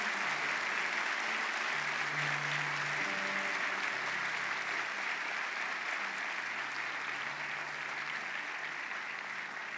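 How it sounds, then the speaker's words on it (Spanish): A church congregation applauds steadily and loudly for about ten seconds, a dense, continuous wash of clapping with faint voices and a low sustained tone underneath. "¿Cuántos pueden darle un aplauso bien grande, bien fuerte al Señor?"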